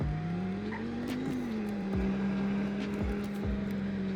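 A Dodge Viper ACR-E on a drive produces a steady low engine drone that rises in pitch as the car accelerates, heard from inside the car, with faint tire and road noise and a few short clicks.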